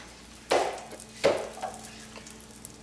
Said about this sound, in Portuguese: Derreteu a manteiga.